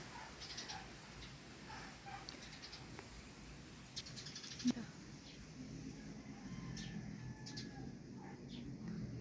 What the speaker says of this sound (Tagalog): dami ibon dito yan